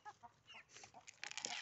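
Chickens cluck and murmur in a backyard flock of around a hundred birds, with soft scattered calls that build into a louder, busier burst toward the end.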